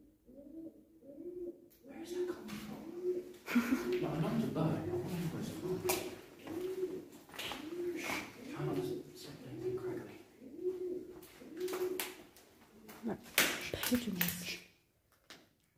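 Pigeons coo repeatedly inside an abandoned RAF airbase at Kenley, a regular series of low, rolling calls echoing in an enclosed space, with people talking intermittently over them before the sound cuts off near the end.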